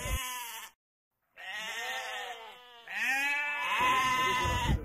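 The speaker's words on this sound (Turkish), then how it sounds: "Baksana geliyorlar kuzular." Lambs bleat close by in several long, wavering calls, each separated by a short pause, with a louder, stronger cry at the end and no talking.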